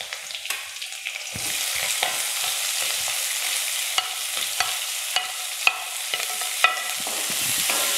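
Sliced onions and green chillies fry in a pan with a continuous bright sizzle, broken by repeated sharp spatula taps and scrapes close by, with no voices.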